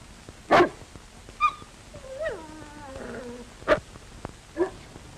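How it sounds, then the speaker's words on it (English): A dog whimpers and whines in drawn-out, falling cries mixed with a few short sharp yips and barks, close and fairly loud, with no talk. "That looks like the dog I saw you feeding at the game warden's grave."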